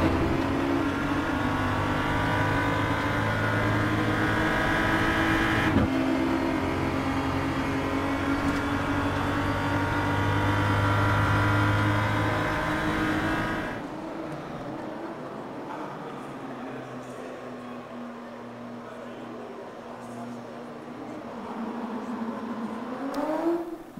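A BMW M235i Racing Cup car in the Raceroom racing game at Zandvoort drones loudly at high revs with gear changes, then drops to a lower, quieter engine note before revving up again.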